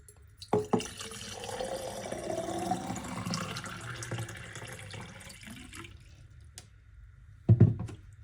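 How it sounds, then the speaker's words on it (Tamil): Water is poured into a glass bottle to grow a plant, with a steady liquid trickle that fills for several seconds. A clunk of glass follows at the end, close up, and no one speaks. "ஃபஸ்ட்டு இந்த பாட்டிலில் கிளாஸில் தண்ணி ஃபில் பண்ணிக்கலாம்"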